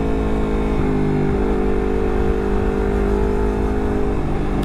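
A Honda CBR250RR motorcycle fitted with a WRX GP3 K2 exhaust holds a steady, loud rev with a smooth, dense drone and a slight pitch shift partway through, close by and with no talking.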